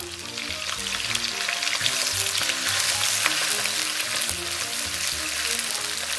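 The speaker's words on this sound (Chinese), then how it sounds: "咱们把葱姜蒜、干辣椒给它下到里边爆香" Scallions, ginger, garlic and dried chilies sizzle in hot oil in a wok, a loud, dense, continuous crackle that stays up close and even throughout with no voices.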